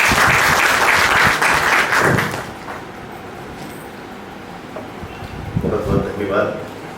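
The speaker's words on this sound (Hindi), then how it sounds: "डॉक्टर विकास दवे जी के लिए सर के लिए जोरदार तालियां।" Loud, close applause from an audience at a Hindi literary event bursts for roughly two seconds, then dies away into quiet room noise, with a few faint stirrings near the end.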